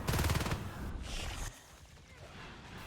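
Marines firing guns at aliens in a video game: a dense, fast burst of automatic fire up front, trailing into softer scattered shots and background noise, with a commentator's voice over the action.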